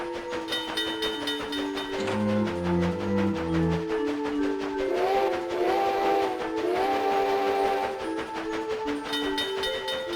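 Train travel in the Nintendo DS game The Legend of Zelda: Spirit Tracks, with a steady chugging rhythm, whistle-like tones and layered musical notes running throughout, moderately loud with no talking.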